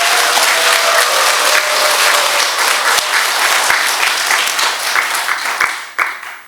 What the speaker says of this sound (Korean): 한번 크게 박수를 쳐야죠